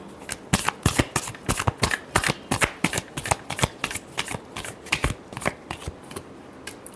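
Tarot cards being shuffled by hand in a quick run of crisp riffling flicks and slaps, close and clear, steady rhythm for several seconds with no voices.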